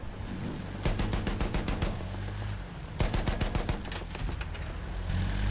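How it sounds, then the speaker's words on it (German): Enemy machine gun fire in the Battlefield 1 video game, two distinct rapid rattling bursts of closely spaced shots over a low rumbling battlefield backdrop, fairly loud and near. "Feindliches Maschinengewehr!"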